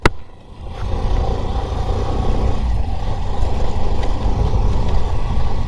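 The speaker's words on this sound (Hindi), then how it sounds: "सामने हमारा थोड़ा ऑफ रोड है, तो ऑफ रोड पर चला कर देखते हैं कि बाइक के सस्पेंशंस कैसे काम कर रहे हैं।" A Hero Glamour 125cc motorcycle is ridden over a rough off-road stretch, its engine settling into a loud, close, steady drone after a brief start.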